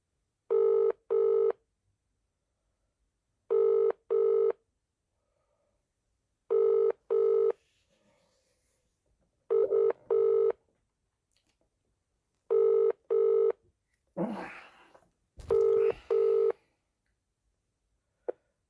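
Mobile phone call ringing, a loud double-pulse ring tone repeating six times at even intervals, followed by a couple of brief clicks and bursts of noise near the end.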